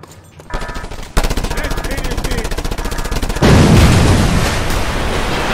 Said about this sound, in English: If you make use of that biofuel shaft, you can cause quite an explosion.